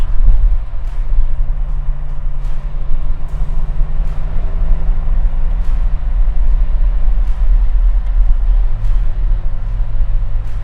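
A 1969 Talladega's engine hums steadily while driving with tall gears, a continuous low drone with road rumble throughout and no talk.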